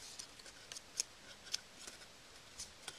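Paper for a papercraft model is folded down and up in a quiet room, giving faint, crisp creases and soft papery ticks that arrive irregularly, a few slightly sharper than the rest, with no voices.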